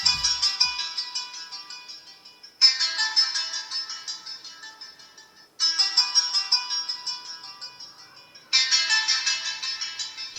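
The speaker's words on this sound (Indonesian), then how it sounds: "jam pintar ini bakalan munculin notif suara dan getar seperti ini" A Kieslect KR smartwatch alarm repeats a bright chiming tone in four bursts, each starting loud and fading, over a faint buzzing rattle of vibration.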